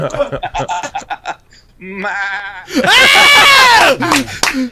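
A person imitates a goat, letting out a loud, wavering bleat with a couple of shorter bleats and some chatter before it, all close to the microphone.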